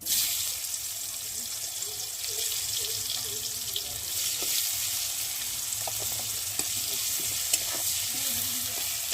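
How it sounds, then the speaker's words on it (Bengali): Chopped onions frying in hot oil for an egg curry, a loud, continuous hiss and sizzle close up with occasional light stirring taps. "এবার আমি কেটে রাখা পেঁয়াজগুলোকে দিয়ে ভালো করে ভেজে নেব"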